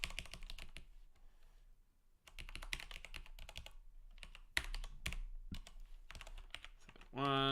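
Rapid clicking keystrokes on a computer keyboard come in bursts of typing with brief pauses between them, close and fairly quiet.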